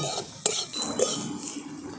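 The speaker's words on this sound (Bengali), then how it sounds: "শুকনো মশলাগুলোকে আমি খুব ভালো করে মিশিয়ে নিচ্ছি" Dry spices (salt, turmeric and roasted cumin powder) being mixed in a bowl for a chana dal tiffin snack, heard as soft scraping and stirring with a couple of brief clinks of a spoon, close and fairly quiet, with no talk.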